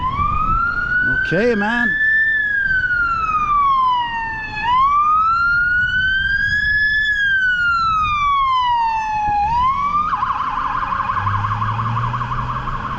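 Wailing emergency vehicle siren sweeping up and down loudly and close on Queen Mary Boulevard in Montreal near St. Joseph's Oratory, changing pattern near the end, with someone briefly speaking over it.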